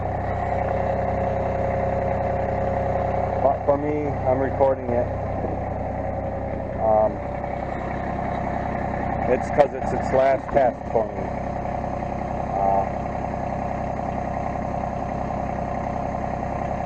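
A steady low engine idles throughout, rumbling evenly while a person talks over it intermittently.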